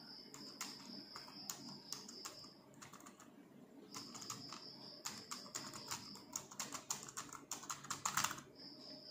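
Keys tapped on a phone keyboard in a POCO M3 Pro word processor, a quiet, close series of quick clicks in irregular bursts with brief pauses, and no voice.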